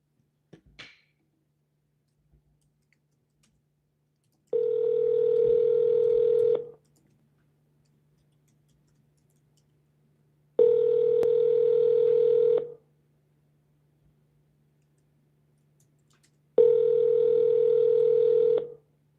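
While calling a Zillow for-sale-by-owner listing, a phone line plays three long, evenly spaced ringback tones, each about two seconds, separated by near silence over a faint steady hum.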